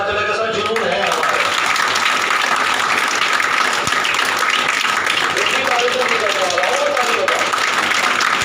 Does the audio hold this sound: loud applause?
yes